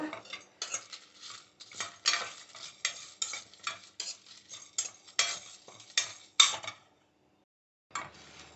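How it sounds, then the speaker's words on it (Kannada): Fennel and cumin seeds frying in a kadai, a utensil scraping and clinking against the pan in a steady rhythm of stirring strokes over a light sizzle, close up, then a brief pause before one more stroke. "ಸೋಂಪು ಜೀರಿಗೆ ಕಲರ್ ಬರೋವರೆಗೂ ಚೆನ್ನಾಗಿ ಫ್ರೈ ಮಾಡ್ಕೊಬೇಕು."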